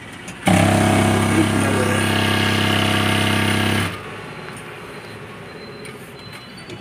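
JACK H2 double-pressure industrial sewing machine set to 2000 stitching at high speed, a loud steady whirring drone that starts abruptly, runs about three seconds and cuts off into quiet room noise.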